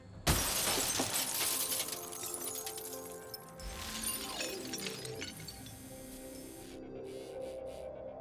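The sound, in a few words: robot ramrod breaking car window glass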